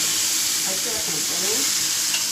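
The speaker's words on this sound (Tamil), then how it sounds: "குழம்பு கொதி வந்தது காய போட்டுடலாம்." Ridge gourd pieces drop into boiling kuzhambu gravy in a pan, producing a loud continuous bubbling sizzle with a brief stirring swirl in the middle, with no talking.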